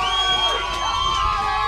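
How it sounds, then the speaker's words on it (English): Spanish spectators cheer and shout at a mixed ultimate frisbee match between Spain and Finland at the 2015 European championships, a steady loud crowd roar with whoops over it for the whole stretch. "Spanish crowd is loving it"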